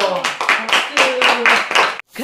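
Several quick claps ring out for a grandmother at a family gathering, close and uneven, mixed with voices and excited vocal sounds.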